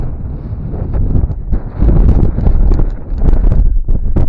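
Strong gusts of cool wind on Dhodap Fort, a high mountain fort in Maharashtra, buffet the microphone in a low, rumbling roar with uneven thumps, loud and close throughout.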